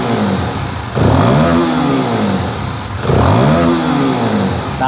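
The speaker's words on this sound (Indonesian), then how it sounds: "Ni pula bunyi dari bahagian exhaust ataupun muffler. Kita cuba rem sikit." A 2024 Voge FR150 motorcycle revved through its exhaust and muffler, two sharp throttle blips rising in pitch and falling back, loud and close with a gritty mechanical clatter between them.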